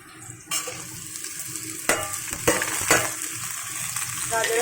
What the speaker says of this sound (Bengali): এবার এই সবজিগুলোকেও খুব সুন্দর করে ভেজে নেব।